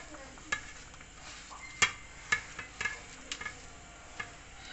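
A spoon stirs oil into curry powder masala for stuffed ridge gourd, giving scattered sharp taps and scrapes against the bowl at an irregular pace, near and fairly soft.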